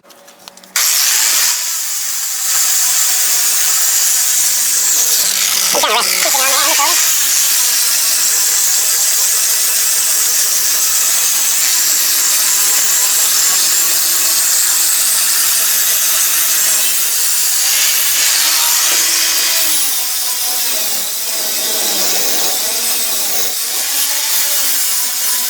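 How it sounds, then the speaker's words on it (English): Sanding disc grinds against a cut C-notch on a Chevrolet Silverado frame, a loud, close, continuous metallic whine that shifts in pitch as pressure changes, with no talking. "Now we're going to put on a sanding disc and get to sanding."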